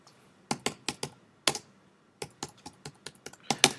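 Keystrokes on a computer keyboard come in short irregular bursts of sharp clicks, close and fairly crisp, with brief pauses between runs and no talking.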